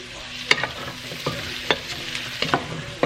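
Zucchini stir-fried with butter, garlic and onion in a pan, a steady sizzle broken by several sharp scrapes and clacks of the spatula at irregular intervals, close and moderately loud, with no talking.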